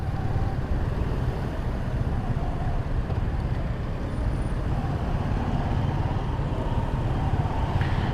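Heavy rush-hour traffic on a congested Jakarta road rumbles continuously, with engines, trucks and buses droning nearby and a brief air-brake hiss, with no voices.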